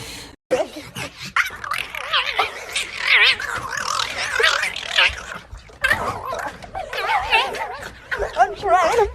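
A dog plays with a balloon, yipping, whimpering and barking excitedly in close, lively bursts while people laugh and talk nearby.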